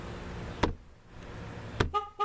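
Chevy Silverado alarm shock sensor warning, a close electronic signal with two sharp impact-like clicks followed by short repeated tonal chirps.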